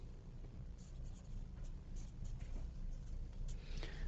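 Drawing a circuit diagram on a board during an electronics lecture: soft, scratchy marker or chalk strokes in short irregular bursts over a steady low room hum, fairly close and quiet, with no talk.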